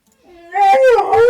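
A pet dog close by in a room lets out a short rising howl that breaks into whimpering, loud and brief.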